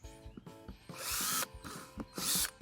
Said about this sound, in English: I'm gonna drill about 6 more holes on the lid, and that's once again for airflow.